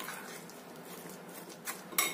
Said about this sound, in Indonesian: Aduk sampai rata.